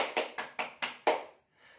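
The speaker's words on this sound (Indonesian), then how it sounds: "Kita berikan tepuk tangan untuk kelompok A." A small group of fifth-grade pupils in a classroom giving a short round of applause: six distinct sharp claps in a quick steady rhythm, fairly faint, with no talking.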